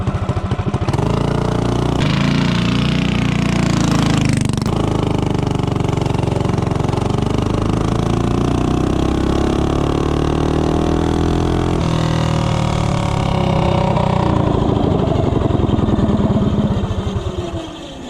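A Tillotson 212 engine with a 5-inch intake and a 24 mm flat-slide carburetor roars loud and close as it accelerates from 0 to 30, its pitch climbing and holding steady throughout.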